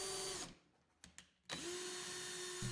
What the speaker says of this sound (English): We're going to put a pilot hole first, then we'll follow up with a countersink, and then we'll put screws in.